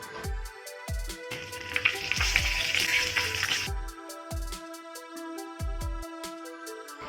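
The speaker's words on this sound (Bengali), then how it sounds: "এবারে ওই তেলেই ফোড়ন দিয়ে দিচ্ছি 1/2 চা চামচ গোটা জিরে, একটি শুকনো লঙ্কা আর 2টি তেজপাতা" Whole cumin, a dried red chilli and two bay leaves fry in hot oil, a sizzle swelling and fading under repeated sharp metallic taps and knocks from a utensil against the pan.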